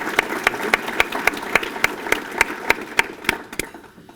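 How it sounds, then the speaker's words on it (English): An audience at a conference applauds the Siouxland Chamber, heard as a run of crisp, evenly spaced claps that fade out after a few seconds, with no speech over them. "let's give the Siouxland Chamber a great round of applause as well"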